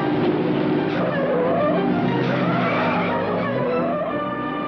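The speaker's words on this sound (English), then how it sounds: "He smashes his car through the second gate." A car smashes through a gate and skids away during a film chase scene, a loud, continuous roar of engine and screeching tires with no talking.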